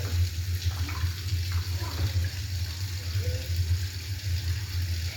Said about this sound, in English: I just like to push my lid down. The lid down. And then let it drain.